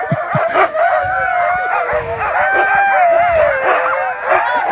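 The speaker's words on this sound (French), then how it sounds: "Ils sont motivés, les chiens, ils ont envie de partir" Excited sled dogs at a race start in Chasseradès bark, yip and howl together in a loud, overlapping chorus, with sharp close barks over whining.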